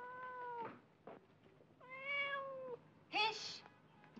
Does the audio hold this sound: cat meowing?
yes